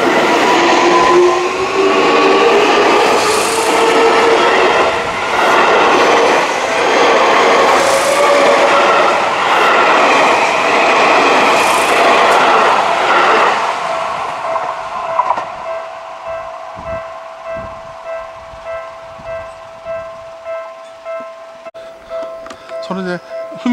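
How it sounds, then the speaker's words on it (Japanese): A Seibu Ikebukuro Line semi-express train rumbles past close by at a level crossing near Motokaji Station, with a loud rolling roar that fades out, followed by a steady mechanical hum and scattered clicks. "電車が行きます。"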